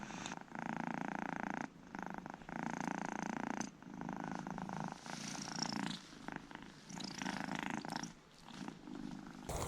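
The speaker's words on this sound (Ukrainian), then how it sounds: "як трактор мурликає" A cat purring loudly and steadily up close, a rumbling rhythmic purr with brief breaths in between, no voices over it.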